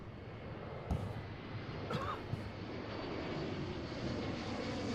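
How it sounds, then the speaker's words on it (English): A steady, distant aircraft engine drones throughout as planes land at Seattle-Tacoma airport, a broad low rumble with a few brief thumps early on, no voices. "So more and more planes just keep coming in"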